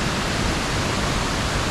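Waterfall roaring in a steady, dense, loud rush of falling water heard close up, with no pauses and no voices.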